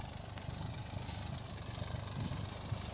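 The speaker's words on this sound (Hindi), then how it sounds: "आपको दिखाते हैं ट्रैक्टर से मकई कर रहे हैं।" A tractor engine works a maize field with a steady mid-pitched idle-like rumble that holds constant with small fluctuations and stays moderately loud throughout, with no talking.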